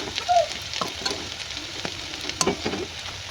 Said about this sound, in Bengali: আস্তে আস্তে যদি ভাজছিলাম এই জন্য একটু টাইম লাগছিল।